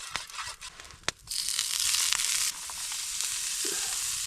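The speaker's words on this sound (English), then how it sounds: "Got bacon chunks, green onions, yellow onions, and chives frying in a little butter and oil." Bacon chunks, green and yellow onions and chives fry in butter and oil at a wilderness campsite. A close, steady sizzle swells and hisses, broken by a few sharp clicks and stirring noises.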